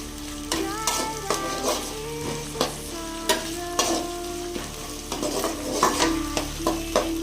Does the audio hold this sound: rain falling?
no